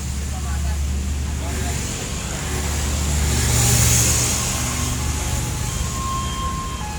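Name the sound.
Jetbus 5 SHD bus on Hino RM 280 chassis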